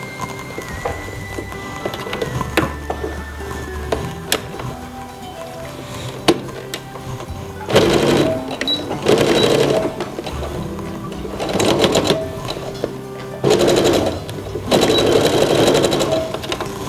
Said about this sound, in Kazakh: осыдан көріп тұрғандарыңыздай бұлай ұзынна тігіс тігеміз